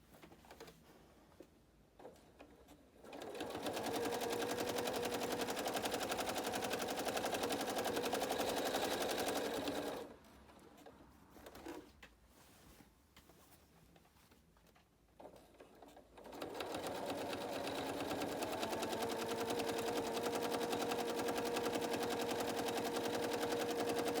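A sewing machine quilts a zig zag stipple in two long, close, steady bursts of rapid stitching, separated by quiet pauses.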